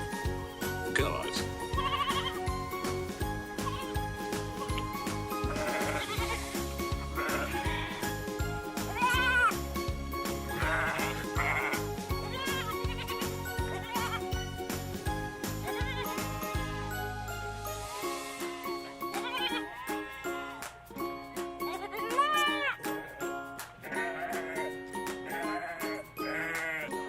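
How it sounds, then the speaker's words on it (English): Goat bleats repeated over a bright, busy backing of children's music, with several wavering cries standing out loud and close, on a farm. "goat,"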